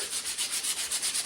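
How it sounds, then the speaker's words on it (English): A wooden walking stick is sanded by hand with folded 150 fine grit sandpaper, producing close, rhythmic back-and-forth scratchy strokes, about eight quick passes in a steady pattern. "Kind of sanded that down"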